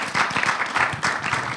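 A short burst of applause from a studio audience on a Congolese talk show, steady clapping at moderate volume for under two seconds.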